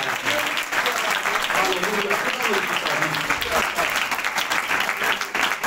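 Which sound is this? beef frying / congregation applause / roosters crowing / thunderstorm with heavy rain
congregation applause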